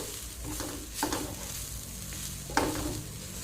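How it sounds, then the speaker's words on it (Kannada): Vegetables being sautéed together in one pan, a steady soft sizzle with a couple of stirring scrapes, close and fairly quiet, no talking. "ಎಲ್ಲವನ್ನು ಒಂದು ಪ್ಯಾನಿಗೆ ಹಾಕಿ ಬಾಡಿಸಿಕೊಳ್ತಾ ಇದ್ದೇನೆ"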